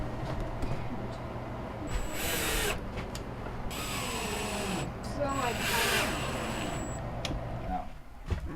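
Power tool driving screws while installing cabinet door hinges in a bus conversion, with several short whirring bursts separated by pauses and a voice talking in between.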